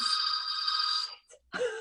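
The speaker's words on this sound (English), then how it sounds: "Sorry, my phone's going." A mobile phone rings loud and close with a bright electronic ringtone, holding for about a second, breaking off briefly, then starting again.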